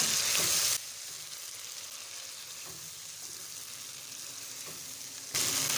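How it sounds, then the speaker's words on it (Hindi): Boiled potato slices with spices being gently stirred in a pan, giving a soft, steady sizzle with faint scraping, louder bursts at the start and end. "आराम आराम से हिलाना है क्योंकि आलू बॉयल हुए हैं, टूट सकते हैं"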